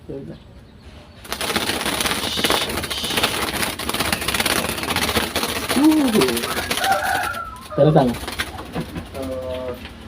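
Soft cooing of a zebra dove, a few rounded notes near the end, under a steady engine-like drone and a man's brief speech.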